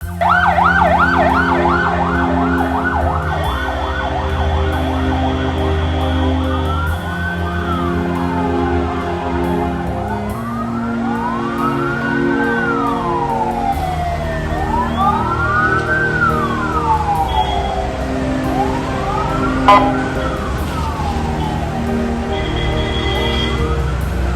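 Ambulance sirens wail as vehicles carry bodies from the Chooralmala landslide in Wayanad district, loud and close, with repeated rising and falling tones from several sirens overlapping over a low vehicle rumble.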